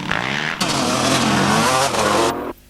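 Kawasaki KLX 300 four-stroke motorcycle ridden in a Clubman class snow trial run, a loud close engine surging and revving hard for about two seconds before cutting off abruptly.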